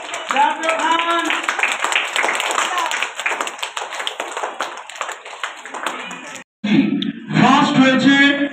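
Hands clap together in a crowd cheering prize winners, a busy continuous patter under chatter, breaking off briefly before voices and claps resume.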